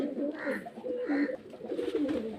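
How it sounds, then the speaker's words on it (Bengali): Pigeons cooing in soft, throaty, repeated calls close by, with no talking. "এই যে খুব সুন্দর সুন্দর পায়রা আছে"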